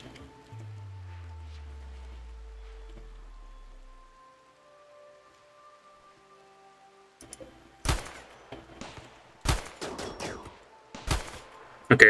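Several sharp gunshots from Rimworld Odyssey game combat, some in quick clusters, following a quiet stretch with a low descending tone and faint tonal game sounds.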